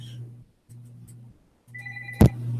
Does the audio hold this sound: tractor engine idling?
no